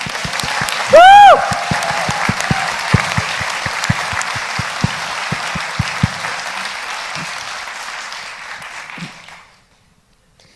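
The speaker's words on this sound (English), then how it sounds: "could you please give them all the round of applause" A large audience at an event honouring disabled champions bursts into dense, steady applause, with a loud whoop near the start; the clapping holds for about nine seconds, then fades out.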